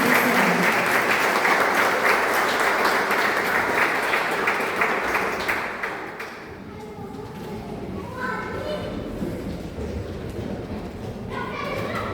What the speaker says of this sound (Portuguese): Dá um aplauso de louvor pela vida das crianças.